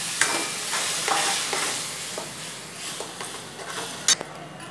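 Onions cooking in a pan for dhaba-style dal, a steady close sizzle and frying hiss with occasional stirring scrapes and a sharp clink of a utensil near the end.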